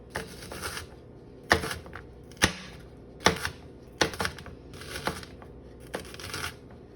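A knife thinly slices food on a cutting board, with sharp close taps about once a second, each with a short crisp cutting rasp, and no voices.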